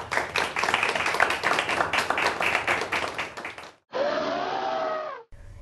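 A studio audience at a community TV show applauds a guest, a dense round of many hands clapping that fades out, followed by a brief stretch of music.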